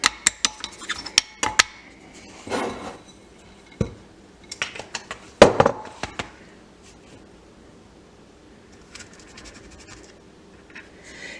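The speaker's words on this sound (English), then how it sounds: "I'm going to dip these and start pressing out the cookies." A metal cookie cutter presses out shapes from sugar cookie dough, giving scattered sharp clinks and soft scraping taps against a baking surface, irregular and fairly quiet, with no talking.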